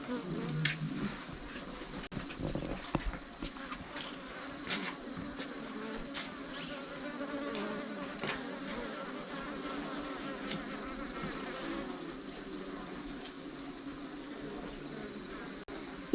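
Honey bees buzz steadily at a bee farm, a dense continuous droning swarm close by that holds for the whole stretch with little change.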